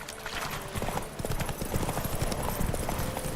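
Roach, Geralt's horse in The Witcher 3, gallops with rapid, rolling hoofbeats that keep a steady, close rhythm across the whole stretch, with no voices over them.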